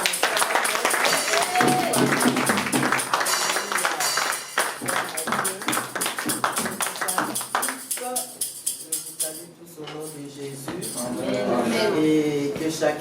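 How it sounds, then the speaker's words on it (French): A church congregation at a Sunday women's celebration service applauds and cheers for the women, a loud sustained wash of clapping and crowd voices that thins briefly before swelling again. "on acclame pour les femmes"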